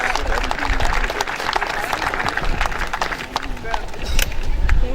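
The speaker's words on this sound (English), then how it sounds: "if we get a big round of applause for FedNor and the Northern Ontario Heritage Fund" An audience at a business centre grand opening breaks into applause, dense clapping mixed with crowd noise and voices, swelling louder toward the end.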